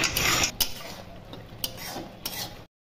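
A spatula stirs water spinach curry in a metal pan, making a few bright scraping clinks and knocks over a moist bubbling sizzle, close and fairly quiet, no speech.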